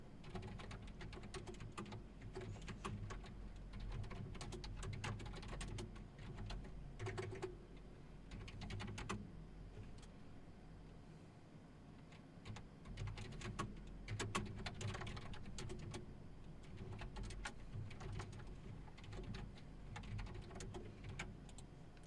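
Someone types code on a computer keyboard while scripting a MapleStory Worlds party game. Soft, irregular keystroke clicks run steadily for over twenty seconds over a faint background hum, with no speech.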